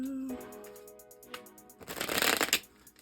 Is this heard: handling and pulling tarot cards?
yes